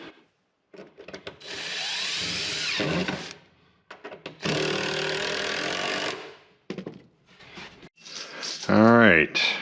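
A power tool drives into a 3/4 inch board while a garage door spring is being boxed out for a ceiling install, two long whirring bursts separated by clicks and handling noise, then a brief rising whine near the end.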